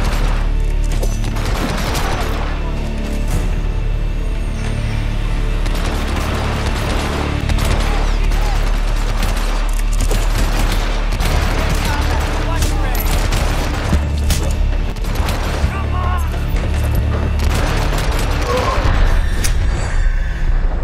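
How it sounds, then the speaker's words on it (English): Sustained automatic gunfire aimed at a wall during a Hitman Absolution shootout, loud and continuous with heavy booms and clatter across the whole stretch, with a voice talking over it in places. "He is seriously firing at a wall"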